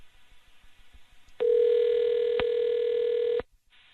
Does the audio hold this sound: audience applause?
no